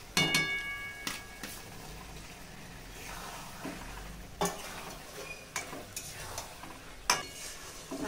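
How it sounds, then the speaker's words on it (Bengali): Chicken and fried cucumber sautéed in a pan: a soft continuous sizzle broken by irregular clinks and scrapes of a spoon against the pan, close by, with no talking. "শসা দিয়ে খুব ভালো করে কষিয়ে নেব।"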